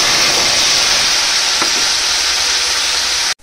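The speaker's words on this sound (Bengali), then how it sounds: "সব একসঙ্গে এটা ভালো করে ভেজে নেব।" Ground onion, garlic and ginger paste fries in oil with a loud, dense, unbroken sizzle close up, ending in a sudden cutoff.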